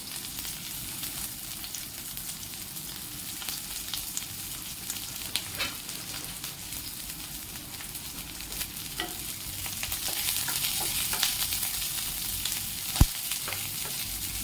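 Sweetcorn and red lentil fritters fry on a flat tawa with a continuous, even sizzling hiss and occasional faint clicks of a spoon or spatula, and no one speaks.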